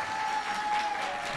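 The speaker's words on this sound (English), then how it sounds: "can we get a round of applause" A convention panel audience gives a short burst of steady applause, dense clapping from a crowded room with no talking.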